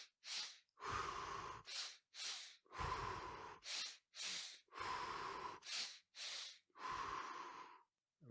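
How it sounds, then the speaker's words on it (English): Rhythmic breathing in a calming exercise: paired quick sniffing inhales followed by longer exhales, repeated about five times, close-miked and clear with no talking. "We shift our breath to a double inhale"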